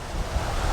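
Creek water gushing through 2 3/4 inch overflow holes in a small dam into a box, a steady, loud, close rushing wash with no talk.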